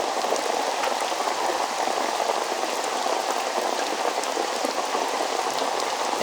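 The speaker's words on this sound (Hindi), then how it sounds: "तेज बारिश आने वाली है" Heavy rain pours down steadily and loudly, a dense continuous hiss of drops drumming on surfaces with no letup and no voices.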